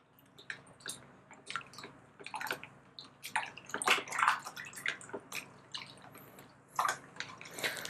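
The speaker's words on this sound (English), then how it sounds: "let's start dissolving soap on RO water" Soap dissolving in RO water, with irregular wet squishing, dripping and sloshing sounds at close range, bursting in uneven clusters with louder splashes around the middle and near the end.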